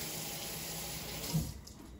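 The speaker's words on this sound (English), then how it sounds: "I just put in a little bit of water." Hot water runs steadily into a pan during steak cooking, a continuous close hiss and splash with a slight surge near the end.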